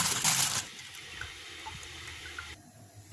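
Water pours into a cooking pot while a ram's head is being prepared for steaming for Eid al-Adha, with a loud splashing gush for about half a second before it settles into a quieter trickle and faint room noise.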